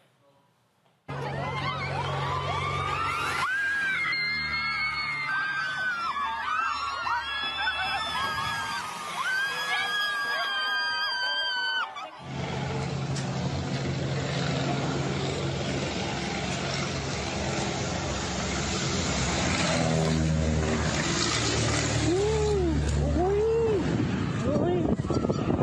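Crowd yelling and screaming at an outdoor gender reveal party in Mexico, with fireworks going off and a low aircraft engine drone; loud and continuous, with people talking throughout and a sharp shift in the mix midway.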